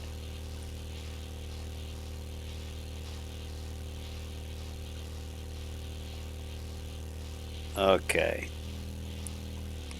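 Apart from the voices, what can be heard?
vehicle engine idling in video game 7 Days to Die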